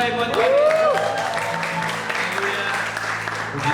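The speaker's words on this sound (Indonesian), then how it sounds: "Berikan sorak-sorai buat Tuhan." An audience at a Christmas event at a school, SMAN 76, cheers and applauds in a sustained wash of clapping, with a high whistle early on and voices mixed in.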